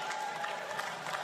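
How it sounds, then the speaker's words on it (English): Steady applause from an audience at a women's basketball finals game, the Townsville Fire versus Bendigo Spirit in a sellout arena, a dense continuous clatter of clapping heard briefly. "Yes, a worthy round of applause."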